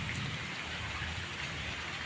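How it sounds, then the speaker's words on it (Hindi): Steady rain falls over a village, a dense, even hiss of drops spread across the whole clip with no voices, close and moderately loud throughout. "आप लोग को दिख रहा है बारिश"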